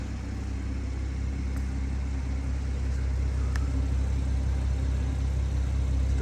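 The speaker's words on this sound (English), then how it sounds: "so on idle, the right exhaust pipe is the one that's open, and the left one has a valve." A 2019 BMW M140i Shadow Edition automatic idles with its exhaust valve setup, giving a steady, close, low rumbling drone that holds even for several seconds without speech.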